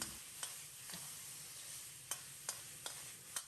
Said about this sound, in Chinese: 少许料酒沿锅边淋入